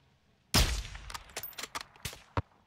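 A single sharp, loud sniper rifle shot in the Call of Duty Modern Warfare II campaign, with a booming decaying tail, followed by a scatter of quieter clicks and impacts.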